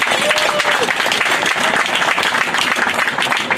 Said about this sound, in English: Give the Slaughter family another round of applause.